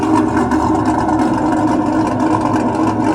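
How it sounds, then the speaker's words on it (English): A blue race-style truck's engine exhaust rumbles steadily, a deep, dense, close drone holding at an even level without breaks. "That has more of a race truck sound to it"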